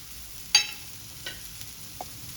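Chickpea flour is stirred into cabbage frying in a pan, giving a few faint, separate scrapes and clicks of a utensil over quiet background sizzle.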